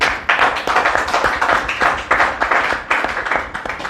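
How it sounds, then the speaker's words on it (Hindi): Loud, dense applause from a crowd welcoming guests at an Independence Day celebration in an academy, many hands clapping close and continuously for about four seconds with no talking over it. "और ज़ोरदार तालियों से इन लोगों का स्वागत कीजिए।"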